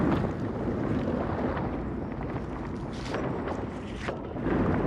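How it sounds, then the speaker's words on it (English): Strong, steady wind roars against a touring cyclist riding a coastal road near the Humboldt Redwoods on the Pacific Coast in stormy weather, a loud continuous broadband buffeting that swells slightly toward the end with no voices. "The wind beating against my sails."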